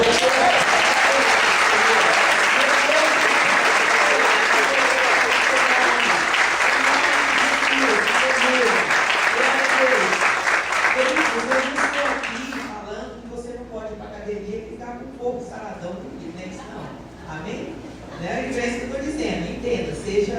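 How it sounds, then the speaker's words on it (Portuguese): A church congregation claps together in worship, a loud, steady wash of many hands that abruptly drops away, after which a voice carries on over a quieter background. "adore aí com tuas palmas"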